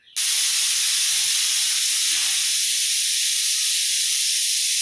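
Pressure cooker full of soaked rajma lets out a loud, steady steam whistle that starts abruptly and holds for several seconds, no talking.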